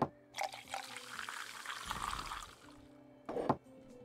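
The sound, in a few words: pouring fresh drinks in video game Tavern Manager Simulator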